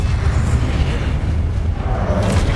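A Confringo blasting spell in the video game Hogwarts Legacy goes off as a loud, dense, rumbling explosion that fills the whole moment with heavy low-end boom and noise.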